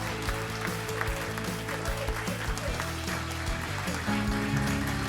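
Live audience applause at a taped country music TV show, a dense steady wash of clapping with some cheering that holds for about five seconds while music-like tones sit beneath it.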